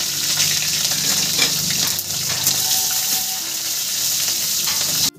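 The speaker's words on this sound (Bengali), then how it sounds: "আমি এই ফোড়নটা তেলের মধ্যে দিয়ে দিলাম।" Radhuni seeds tempering in hot oil for a prawn and red-green amaranth stir-fry, crackling and sizzling in a loud, continuous spray with no pauses, close up, before cutting off abruptly at the end.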